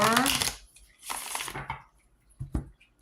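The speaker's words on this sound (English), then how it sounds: "Ooh, that was a short shuffle." Two quick bursts of tarot cards riffling and being shuffled, brisk and close, followed by a couple of soft taps as the deck settles.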